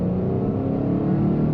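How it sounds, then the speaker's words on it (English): A 2019 Acura TLX 2.4 A-Spec with a 2.4-litre engine accelerates uphill with VTEC engaging, giving a brief, steady engine hum heard from inside the car, without talk. "Even uphill, I mean, there's that VTEC that kicks in there."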